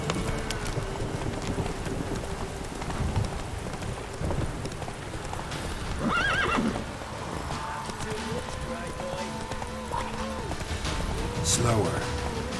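Roach the horse from The Witcher 3 clopping along with steady rhythmic hoofbeats amid wind and rain ambience, a brief snort or neigh, and speech over it.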